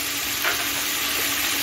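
Vegetables with salt, turmeric and chopped chilli being stirred in a pan over medium gas for chire pulao, giving a steady close sizzle with a faint scrape of the spoon, no talking.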